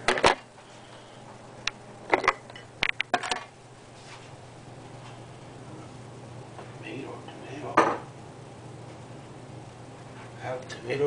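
Tomato, onion and other ingredients for a jailhouse stew go into a slow cooker pot with clattering clinks of containers and utensils, loud bursts early then quieter handling, while a person talks.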